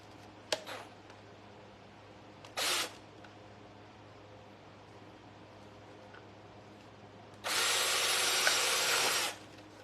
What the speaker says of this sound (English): Then I'll drill a few more holes on that cup.